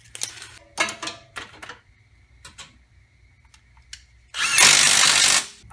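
Bolts on a Honda Civic front wheel bearing job being tightened, a string of quick clicking ratchet-like bursts followed by a louder, sustained burst of tool noise near the end, close and alone.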